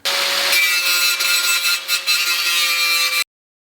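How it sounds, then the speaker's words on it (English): Flap disc on an angle grinder smoothing welded steel on a widened Honda CB500F motorcycle fender, a loud continuous abrasive rasp close by for about three seconds, then an abrupt stop. "Now I'm using a flap disc to smooth the metal out even more"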